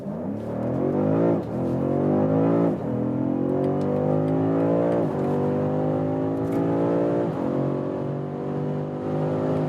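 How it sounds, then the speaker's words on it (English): A BMW M5 accelerates hard from about 30 km/h, its engine climbing steadily in pitch through several upshifts, each marked by a short drop before rising again, loud and continuous without speech. "We're starting at about 30 kilometers an hour and let the hell out of this vehicle."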